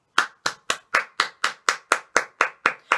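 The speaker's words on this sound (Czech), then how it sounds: "Tady máte výborný potlesk" A single pair of hands clapping slowly and evenly, about twelve crisp claps in steady rhythm, close and alone with no talk.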